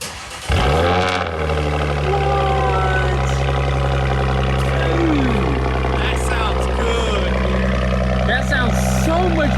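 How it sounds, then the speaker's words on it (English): A 2019 Ford Raptor, rebuilt after a wreck, cold-starts with a cranking burst and then settles into a loud, steady, rumbling idle that fills the space, with faint voices in the background. "Let's start this thing up."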